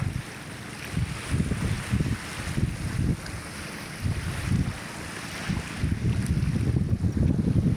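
Wind gusts buffet the microphone on a seashore in the late afternoon, with waves washing against the beach and moored boats nearby, a rough, continuous rumble swelling and easing.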